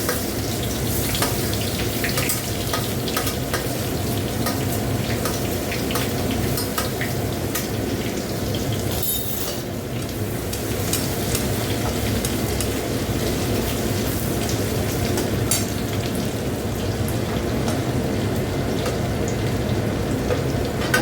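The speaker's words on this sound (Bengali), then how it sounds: "আর এখানে দেখো এই রসুন কুচিটা দিয়ে দিচ্ছি।" Chopped garlic sizzles in hot oil in a home kitchen, a steady, dense crackling hiss that holds evenly throughout with no talking.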